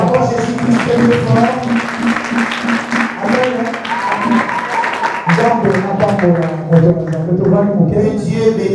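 A church congregation applauds in praise, a dense, steady wash of clapping mixed with voices singing or calling out over it for the whole stretch.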